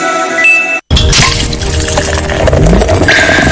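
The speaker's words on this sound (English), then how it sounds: "That's the sound of a stout that flows with your personality." Stout beer pours and flows with a bubbly, liquid gurgle and faint clinks, loud and continuous after a brief cut of silence near the start.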